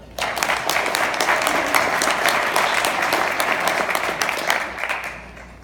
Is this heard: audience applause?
yes